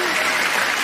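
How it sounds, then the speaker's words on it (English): Brief burst of dense audience applause for a teenage debater at a school debate competition, loud and steady with no break. "Please clap for her."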